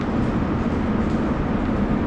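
A metro train in Rio de Janeiro rumbles steadily, a loud continuous roar of wheels and motors from inside the carriage with no talk.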